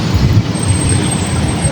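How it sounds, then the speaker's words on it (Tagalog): Heavy road traffic rumbles in a low, steady wash of car and bus engines, dense and continuous without distinct passes. "Sobrang traffic."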